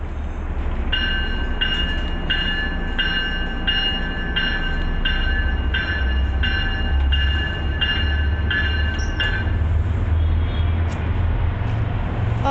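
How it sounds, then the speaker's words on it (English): A commuter rail train rumbles past at close range, a loud steady roar with a bright, evenly spaced pinging chime repeating about a dozen times over the rolling wheels before it fades. "Train."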